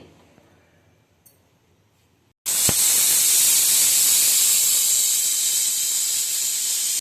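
A pressure cooker boiling jackfruit seeds in water lets out a loud, sustained steam hiss. It starts suddenly after a quiet stretch with faint clinks and runs on unbroken to the end.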